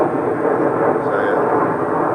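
An aeroplane passes over a woodland camp as a continuous low droning rumble, steady and fairly loud throughout with no voices.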